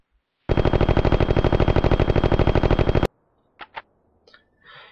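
Rapid sustained burst of automatic gunfire in the video game Martian Gothic Unification, loud and close, lasting a couple of seconds before stopping abruptly, followed by a few faint short clanks and noises.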